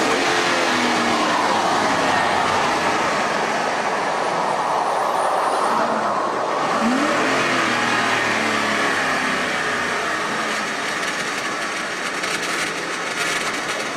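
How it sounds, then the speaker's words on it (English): A $60,000 car with a broken transmission and gears grinds along in a loud, continuous mechanical roar with rough, whining rumble that holds steady throughout. "That's broken gears right there."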